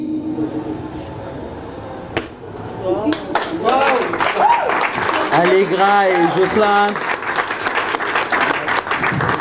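An audience at a literary cross-reading event breaks into applause, dense clapping rising partway through while a voice speaks over it.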